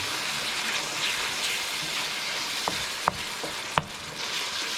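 Greens cooking in a pan sizzle steadily up close as ground turmeric is stirred in, with a few sharp clicks of a utensil against the pan near the end; no voices.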